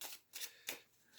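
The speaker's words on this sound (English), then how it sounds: "And I'm gonna pull a few cards as the angels." Angel oracle cards shuffled by hand, three quick papery riffling bursts in just over a second, close and soft with no voice.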